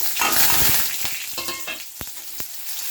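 Dried red chili and crushed garlic drop into hot oil for Bangladeshi-style spinach bhaji, a loud burst of sizzle that settles into steady crackling frying with a couple of sharp pops, no voices.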